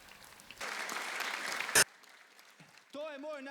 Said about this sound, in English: Let us give an applause for our Holy Father.